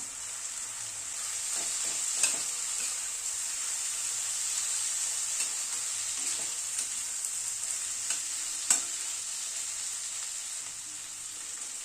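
Green peas frying and being stirred in a karahi for a spinach and winter-vegetable dal, a steady hiss running throughout with occasional soft clinks and scrapes from the spoon, close and moderately loud, with no voices.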